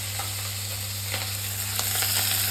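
Panch phoron, crushed garlic and chopped green chillies sizzle in hot oil, a dense, steady crackling hiss with scattered small pops and light stirring, close and continuous.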